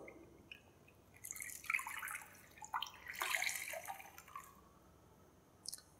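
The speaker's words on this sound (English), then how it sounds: "then I dip it in ice cold water" A towel dipped and swished in a basin of ice cold water, with faint sloshes and dripping splashes in a quiet room, brief bursts of water movement followed by a final small splash.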